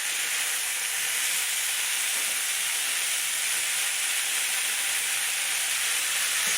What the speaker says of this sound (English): my onions and mushrooms are cooking up nicely